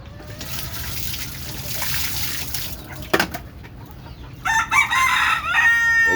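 Free-range desi chickens cluck and a rooster crows loudly near the end, with a steady trickle of water running underneath throughout.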